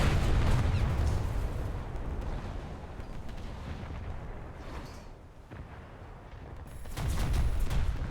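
Heavy naval gunfire from the French light cruiser Duguay-Trouin in a naval combat video game, a dense run of booming blasts and rumble, loudest at the start and again near the end, with no talk.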